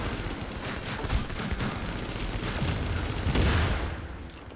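Sustained gunfire from the video game The Division in a Dark Zone PvP fight, dense overlapping automatic bursts and shots rolling on for several seconds without talk.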